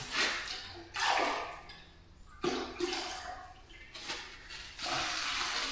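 Water poured in several bursts into a dry concrete mix, each splashing pour lasting about a second and coming in close and fairly loud.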